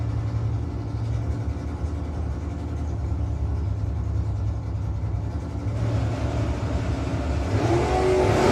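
At a no-box drag racing shootout, a first-generation Camaro's engine roars steadily down the strip, loud and droning, and swells into a higher, harder note near the end.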